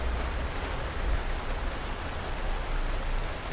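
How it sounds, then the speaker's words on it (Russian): Steady rain falling in a continuous broadband hiss, with a low rumble underneath and no voices. "Смотри, какой дождь пошел."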